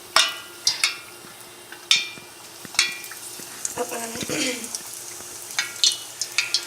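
Breaded chicken sizzles and crackles in hot oil, with sharp intermittent pops and spatters over a soft bubbling hiss, close by.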